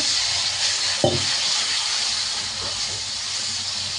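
Water poured into a pan of Kashmiri chilli powder, turmeric and cumin masala sets off a steady, loud frying sizzle and steamy hiss, with a short clunk near the start and no talking.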